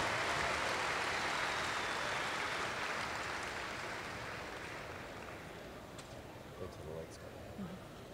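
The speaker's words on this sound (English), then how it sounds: "have one more round of applause for our Supreme and Reserve Supreme Champions of our junior show" Applause for the Supreme and Reserve Supreme Champions of a junior dairy cattle show at an expo, a dense, steady roar of clapping that slowly fades toward the end, with a few stray sounds on top.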